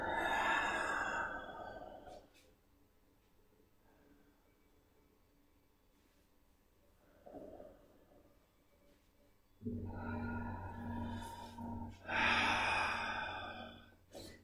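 Deep breaths in and out during a guided stretching session, a long exhale at the start, quiet pauses, then louder breathing near the end, close and soft with no talk over it.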